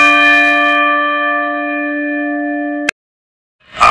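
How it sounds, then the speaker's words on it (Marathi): A large five-metal bell containing gold, at the Padmalaya Ganpati temple, rings with one sustained, bright metallic tone that slowly decays, then ends abruptly with a sharp click and silence, followed by a brief burst of noise. "11 माणाचं घंटा आहे,"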